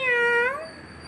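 A single drawn-out cat meow sounds close and clear, starting loud and tailing off as it fades.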